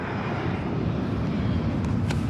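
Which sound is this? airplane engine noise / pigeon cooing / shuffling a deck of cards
airplane engine noise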